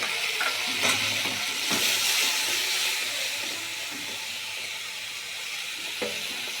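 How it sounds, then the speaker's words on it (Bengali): Spices fry with ginger paste and tomato paste in a pan, giving a steady close hiss and sizzle with intermittent scraping stir clicks throughout, and no talk. "মশলাটা ভাজা হয়ে গেছে,"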